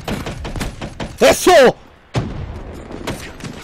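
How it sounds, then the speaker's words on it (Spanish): Gunshots during a Call of Duty Black Ops 3 multiplayer match on Xbox 360, with several sharp, close reports and thuds mixed with game sounds while someone shouts excitedly over the action. "Escuchó el disparo."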